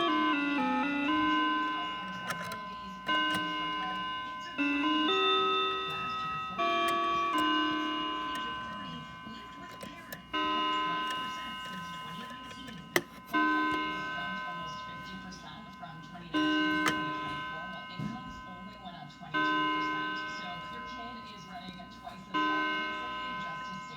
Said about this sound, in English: And that was the Seth Thomas dual chime mantle clock.